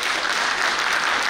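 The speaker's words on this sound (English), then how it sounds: "can we all please give her a Chandigarh round of applause?" A brief, dense burst of audience applause for a guest at a Chandigarh talk event, a steady wash of clapping lasting about a second.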